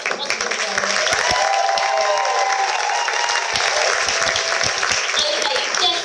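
An audience at an X Factor show claps for young dancers, a lively, continuous applause with sharp individual claps standing out near the listener, accompanied by a faint steady musical tone.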